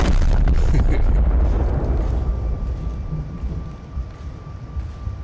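The Schwerer Gustav railway gun fires in War Thunder, a huge deep boom that rolls out into a long fading rumble, loud and alone.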